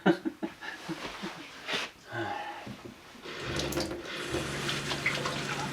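Cold water runs from a tap in a frozen off-grid cabin while hands are washed, a steady splashing hiss building after some clunks and breathing near the start.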